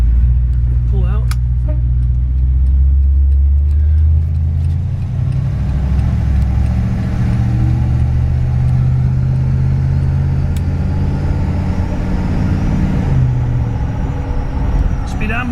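A 1960 Ford Thunderbird pulls out into traffic, its engine rumbling low and steady, close up and loud throughout, with road and traffic noise mixed in.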